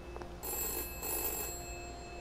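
A telephone rings in the video game We Happy Few, two short bursts of bright electronic ringing, fairly close and alone without speech.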